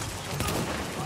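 Gunfire in a video game crackles as a single brief burst, loud and sharp, over steady background noise with a voice present.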